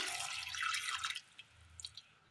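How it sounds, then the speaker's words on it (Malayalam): Water pours steadily for about a second into a cooking pan of carrots, then a few scattered drips and splashes follow in a quiet room. "ഇതിലേക്ക് അല്പം വെള്ളം ഒഴിച്ചു കൊടുക്കാം"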